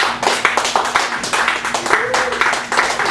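An audience claps at a poetry open mic at Cafe Gallery in Chicago, with a steady run of close, sharp hand claps in quick irregular rhythm, mixed with voices in the room.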